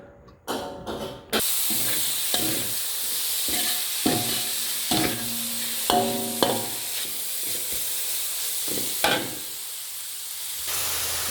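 Blanched fish liver with lemongrass is stir-fried in a hot pan: after a few clanks at the start, loud hissing sizzle runs throughout with repeated spatula scrapes and stirs, no speech.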